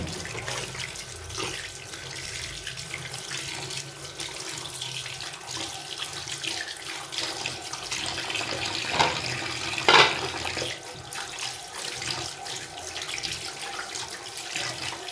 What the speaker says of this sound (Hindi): चिकन को हम अच्छे से वॉश करेंगे।